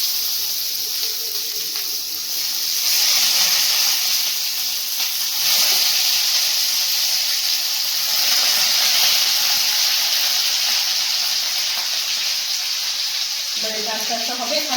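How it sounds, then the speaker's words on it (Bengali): Fish frying in mustard oil on a tawa, a steady, loud sizzle and hiss that swells after the first few seconds and carries on evenly, with faint voices briefly near the end. "তেল দিয়ে এখন এগুলোকে ভাজবো।"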